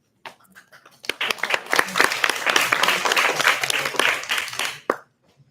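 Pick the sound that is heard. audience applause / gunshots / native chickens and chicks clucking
audience applause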